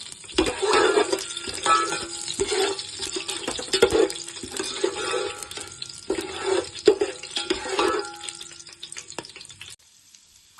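Whole biryani spices such as bay leaf, cinnamon, cloves, cardamom, star anise, pepper and shahjeera sizzle in oil in a pan, with repeated scraping stirs and clinks of a spoon against metal before the frying fades out.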